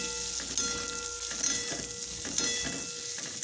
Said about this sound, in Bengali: ভালো মতন করে ভাজা ভাজা করে নিচ্ছি।